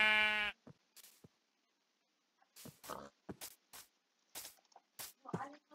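Minecraft sheep giving a loud, harmonic bleat at the start, followed by sparse game clicks, thumps and footsteps among quiet gaps.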